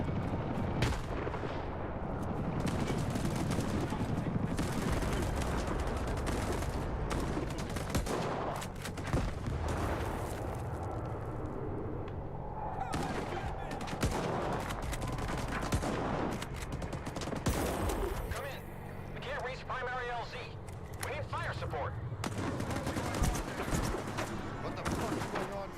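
Gunfire in S.T.A.L.K.E.R. 2: repeated rifle and automatic bursts crack and thud throughout, dense and loud, with a voice talking over parts of the shooting.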